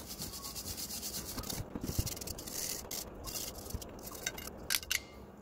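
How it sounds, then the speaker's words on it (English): A wire brush scrubs built-up brake dust off the front brake carrier of a Ford Focus ST225, a quiet rasping, rubbing scratch in uneven back-and-forth strokes, close up with no talk. "grab a wire brush, and give it a good clean."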